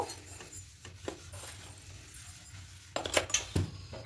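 Burnt coconut being mixed with sugar in a bowl, scraping and light clinks of a spoon against the dish, quiet at first and then a busier flurry of knocks near the end.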